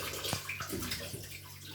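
Running tap water splashing and gurgling while beef trotters are washed in a kitchen, a close, continuous wash of water with a few small clunks and splashes.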